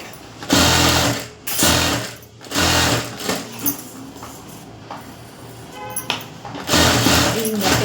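A sewing machine runs in close, loud bursts of rapid stitching, attaching the lining to a princess-cut blouse, pausing briefly between runs while someone talks over the quieter stretches.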